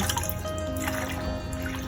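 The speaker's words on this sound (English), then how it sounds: "dip the leaves into the water and just kind of like raise them up and down" Fresh basil leaves are dipped up and down in a bowl of water, making soft close trickles, drips and gentle sloshing with no talking.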